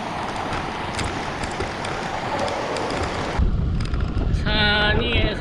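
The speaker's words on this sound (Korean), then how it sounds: "산 위에서 부는 바람은 진짜 최악입니다." Strong mountain wind roars in a continuous rushing blast while cycling in the Pamir, buffeting loudly, then shifts to a choppier gust near the end with a faint high whistle.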